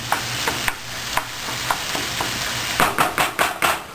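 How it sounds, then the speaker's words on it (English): Hamburger meat frying in a pan, a steady close sizzle punctuated by sharp spatula scrapes and stirring clicks, which come faster in a quick burst of strokes near the end; no one speaks. "Hamburger's cooking"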